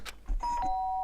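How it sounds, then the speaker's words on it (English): Two-tone doorbell chime from the Danganronpa video game, a short ding-dong that rings out loud and clear after a brief burst of other sound. "sharp sound of the doorbell pierced my sleepy haze and pulled me back to the real world"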